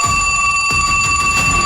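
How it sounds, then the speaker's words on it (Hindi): Dramatised telephone bells ringing at midnight, a bright electric bell rattling continuously at steady loudness with sharp repeated bursts, no voices present. "आधी रात को अचानक फोन की घंटियां बजने लगी"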